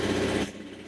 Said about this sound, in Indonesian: Saya starter. Motor dinyalakan.